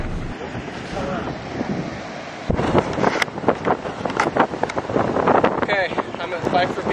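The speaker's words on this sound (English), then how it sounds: "It's super windy out and the sand is flying everywhere." Strong wind gusts batter the microphone on a clifftop at Pfeiffer Beach in Big Sur, a steady roar that rises into louder buffeting, with surf rumbling beneath and a voice speaking over it.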